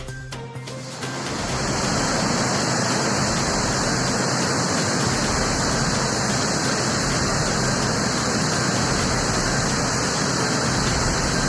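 Water released from Bhandardara dam into the Pravara river surges in a loud, steady, broadband roar that builds within the first second and then rushes on unbroken.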